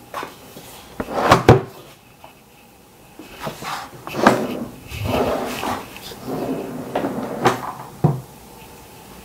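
A wooden drawer clicked and pushed into an armoire, with several close knocks, rattles and sliding scrapes of wood spread over a few seconds, and softer handling noises between them.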